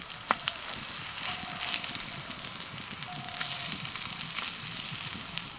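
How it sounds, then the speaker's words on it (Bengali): Broccoli tikka frying in a little oil gives a steady, close hiss of sizzling with scattered sharp crackles and pops throughout, without talk. "দু পিঠ উল্টে পাল্টে একটু লাল করে ভেজে নেব"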